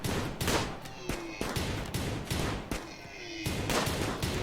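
Rapid bursts of gunfire in the video game RimWorld, a dense fusillade of sharp overlapping shots, some in quick machine-gun runs, close and loud throughout with no pauses of quiet.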